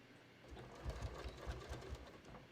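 A sewing machine runs a short burst of stitching along the bottom of a beach tote, a faint rapid rhythmic clatter starting after a brief pause.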